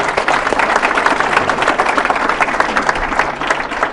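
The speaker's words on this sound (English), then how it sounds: "Can we give David a round of applause?" Audience applause at a Startup Grind Silicon Valley talk with a venture capitalist, a dense, steady wash of many hands clapping that holds loud and even throughout, with no speech over it.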